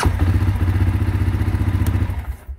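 A CFMoto 625 touring quad bike with a fuel injection fault runs with a loud, steady low engine thump up close, then cuts out at the very end.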